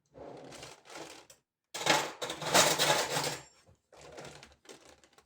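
Spoonfuls of sugar go into softened butter with cinnamon in a bowl, mixed for soft Egyptian country-style qurs. Short bursts of scraping and clinking, with a longer, louder stretch in the middle and brief silent gaps, no talking.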